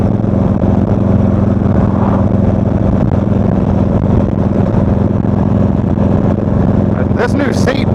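A Harley motorcycle engine drones steadily in 7th gear while riding, a loud continuous low rumble with wind noise throughout, ending in a brief burst of higher-pitched sound.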